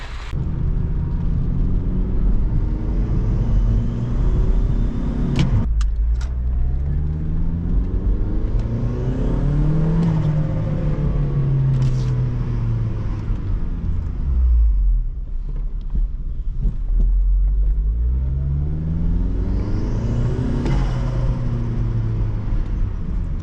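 A turbocharged Honda Civic engine with a Civic Si exhaust revs repeatedly, rising and falling with a deep rumbling exhaust and a whirring whine on top, plus blow-off valve sounds, loud and close, with no talking.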